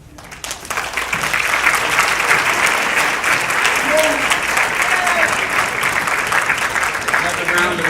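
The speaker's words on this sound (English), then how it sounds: "Applause for Alice Walker" Sustained audience applause for author Alice Walker at a public speaking event, rising quickly from a quiet start into a dense, steady wash of clapping that holds loud and even, with faint voices mixed in.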